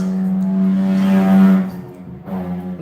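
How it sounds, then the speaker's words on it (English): A loud Lexus drives past, its engine giving a strong steady harmonic drone that swells, fades sharply and then rises again briefly as it goes by. "So there's a loud car coming there."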